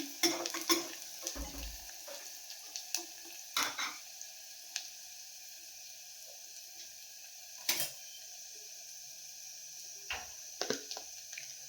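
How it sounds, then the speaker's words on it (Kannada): Spices tempering in hot oil for a radish, lentil and tomato sambar, a faint low sizzle broken by sharp spoon-on-pan clinks and scrapes, close by with no talk. "ಬೇಳೆ ಮುಲ್ಲಂಗಿ ಟೊಮೊಟೊ ಬೇಯಿಸ್ಕೊಂಡಿದ್ದೀವಲ್ಲ, ಅದಕ್ಕೆ ಒಗ್ಗರಣೆ ಕೊಡ್ತಾ ಇದ್ದೀನಿ"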